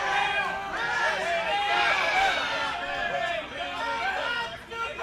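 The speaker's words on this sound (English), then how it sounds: "Hear the crowd trying to wake him up." Wrestling arena crowd at a live event calling out together to rouse a knocked-out referee, a dense sustained roar of overlapping voices and chants holding steady throughout.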